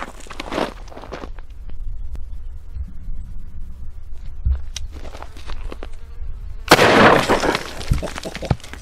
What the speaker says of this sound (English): I'm gonna shoot this watermelon, I think with a slug